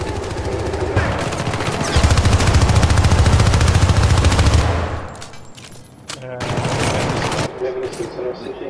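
SMG fire in the co-op shooter Syndicate, rapid, loud bursts of automatic fire that run several seconds, pause briefly, then resume, with players talking over the shooting.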